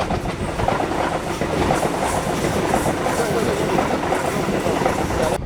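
A train runs past on a railway line, a steady, loud rumble with a rhythmic clickety-clack of wheels on the track that holds throughout without letup.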